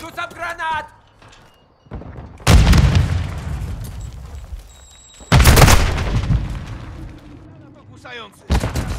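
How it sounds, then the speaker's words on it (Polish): Grenade blasts in Call of Duty: Modern Warfare II, two loud booming explosions a few seconds apart, each rumbling as it fades, with voices heard between them. "Rzucam granat w abik!"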